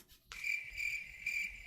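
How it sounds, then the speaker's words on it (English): A single cricket chirps in a steady, high, thin trill that starts abruptly after a brief quiet, with soft pulsing repeats close by and nothing else heard. "Wait, crickets? Oh, crickets."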